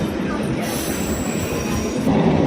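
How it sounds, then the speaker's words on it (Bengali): A train speeding toward Dum Dum Junction gives a loud, continuous rolling rumble overlaid with high, sustained metallic wheel squeals. The sound swells slightly near the end, and no one talks. "এবার ট্রেনটা একটু জোরে যাচ্ছে"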